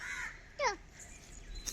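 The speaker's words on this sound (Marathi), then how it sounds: "कावळा ओरडतोय" A crow gives a single harsh caw, fairly faint and distant, against quiet outdoor background noise.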